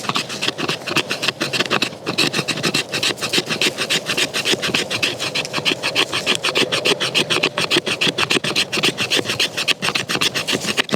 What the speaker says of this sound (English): what I like to do with fat wood is scrape it